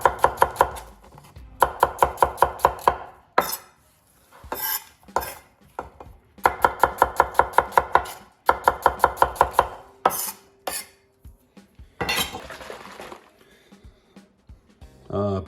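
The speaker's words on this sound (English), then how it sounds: "just chop this guy up." An onion is chopped with a knife on a board for crispy onions, bursts of rapid, even knife strikes in several runs with short pauses, close and loud, with someone talking in the gaps.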